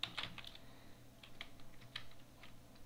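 A name is typed on a computer keyboard in Microsoft Word 2013, a soft, quiet run of irregular key clicks in a still room.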